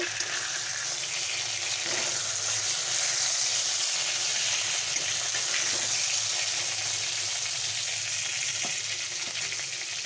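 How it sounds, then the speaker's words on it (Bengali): A katla fish head fries in hot oil, giving a steady, loud, unbroken sizzle with a few faint knocks underneath throughout. "আমি এটাও ভেজে নেব মাছের মাথাটা ভেজে নিলাম"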